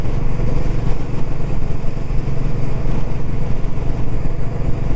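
Royal Enfield Classic 350 motorcycle on a rainy morning ride, its engine a loud, close, steady thumping rumble throughout with wind and road noise mixed in.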